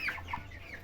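A hen clucks on a poultry farm, a few short, faint calls in under a second, close by.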